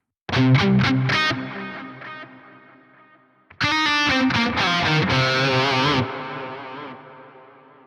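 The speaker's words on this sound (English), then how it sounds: "So now let's move on to the reverb." Electric guitar through the Archetype: Nolly X amp plugin plays two short phrases of picked notes and chords, each ringing out into a spacious, lingering reverb tail.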